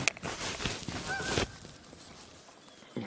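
A goose honks at a French River Provincial Park campsite. The cry is a faint, short nasal call amid quiet outdoor rustle.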